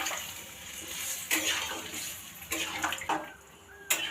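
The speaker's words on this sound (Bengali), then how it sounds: "দেবো যে লাউটা যে আমি সেদ্ধ করেছিলাম, যে জলটা ছিল ওই জলটা এর মধ্যে অ্যাড করব" Water left from boiling bottle gourd is poured from a container into a curry pan, giving a steady splashing rush with a few louder surges near the end.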